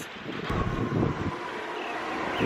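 Wind blows across an open Tuscan landscape on a cloudy day, a low rumbling gust buffeting the microphone, swelling briefly then easing to a steady moderate roar, no voices.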